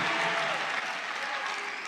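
A large crowd at a Trump political rally applauds, a dense, steady wash of clapping heard at a distance, unbroken throughout.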